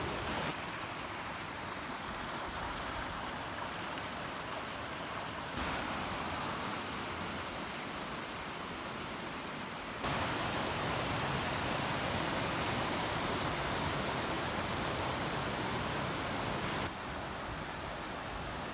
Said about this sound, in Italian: Sempre un piacere ascoltare il suono dell'acqua